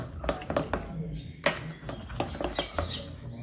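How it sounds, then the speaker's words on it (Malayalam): A spoon stirs risen vattayappam batter in a bowl, giving a series of soft, wet taps and scrapes in an uneven rhythm, close by, with a brief sharper knock near the middle. "ഇതൊന്ന് ഇളക്കി കൊടുക്കാം ഞാൻ."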